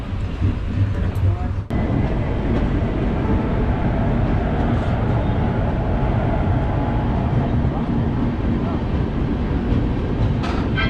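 Swatantrata Senani Express pulling into Muzaffarpur Junction, a loud continuous rumble of rolling wheels and carriages close by, with a sharp clank early on and station chatter underneath.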